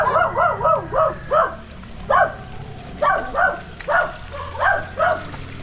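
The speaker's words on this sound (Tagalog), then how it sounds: "Ay, may doggy oh." A dog named Brownie barks repeatedly in short clustered bursts at a house in Kalinga, the woofs close and fairly loud over a low steady background hiss.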